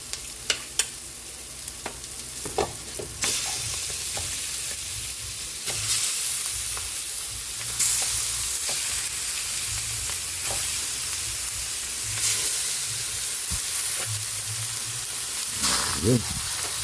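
Chicken fries in a pan with a continuous soft sizzle, while a utensil stirs it with scattered scraping clicks against the pan.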